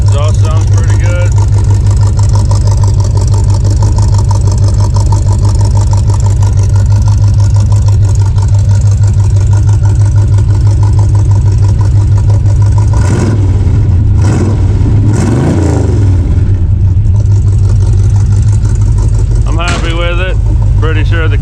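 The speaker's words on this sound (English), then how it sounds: "Exhaust sounds pretty good." A 1974 Chevy Nova idles with a loud, deep exhaust rumble held steady for most of the stretch, then a couple of sharp revs rise and fall, with brief talking over the engine.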